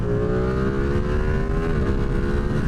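A motorcycle engine runs and revs with a steady, droning tone that rises and falls slightly. It sounds loud and close, with no talk over it.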